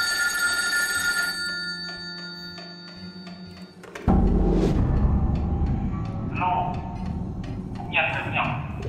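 A telephone rings with repeated electronic trills during the first four seconds. A loud clatter follows, then people talk, with short tones under the voices.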